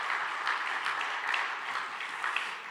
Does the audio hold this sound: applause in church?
yes